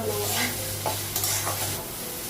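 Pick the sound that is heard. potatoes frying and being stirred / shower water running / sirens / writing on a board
potatoes frying and being stirred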